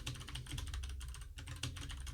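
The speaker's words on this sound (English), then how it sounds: "I suck at typing." Rapid keystrokes on a computer keyboard clatter up close in a steady, uneven stream of clicks with no voices.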